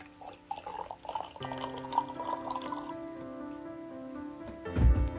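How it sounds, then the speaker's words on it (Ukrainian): Hot water at about 70 degrees is poured into a small jar, a soft liquid stream under a steady hum, ending with a louder splash and knock. "Також наливаю гарячу воду також 70 градусів."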